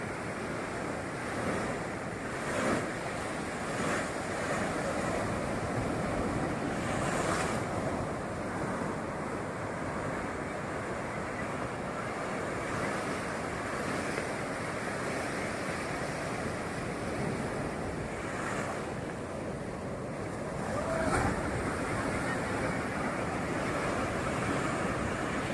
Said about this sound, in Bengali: জলের ঢেউগুলো কেমন আসছে দেখো, তো ঢেউ উতাল পাতাল করছে।